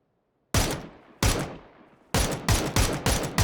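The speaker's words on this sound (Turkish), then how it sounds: "Aynen sniper var mesela. Bir tane mermi atacak." Sharp, close gunshots ring out in PUBG, from a sniper rifle or a DMR. Two spaced shots with ringing tails are followed by a quicker burst of about five more.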